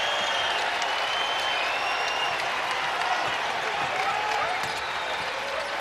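Loud, steady roar of a basketball arena crowd on its feet cheering and applauding through a college game, Utah State at Boise State, dense and unbroken with scattered claps and shouts.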